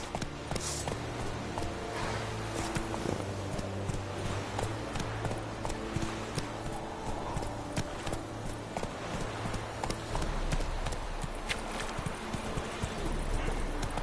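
Steady clip-clop of Geralt's horse Roach walking in The Witcher 3, hooves striking in an even rhythm, fairly quiet and close, with faint game ambience around it.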